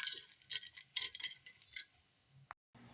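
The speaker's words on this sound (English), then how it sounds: "as it melts, I'm going to stir the different contents together to help it melt and mix together faster" A utensil stirs melting cocoa and olive body butter in a container over low heat, giving a quick run of light clinks and scrapes, several close taps, then a sharp single knock before a quiet pause.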